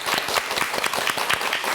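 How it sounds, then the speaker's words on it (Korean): Studio audience applauding during a Korean talk show interview with a trot singer, dense steady clapping from many hands, fairly close and continuous with no speech over it. "어머 박수."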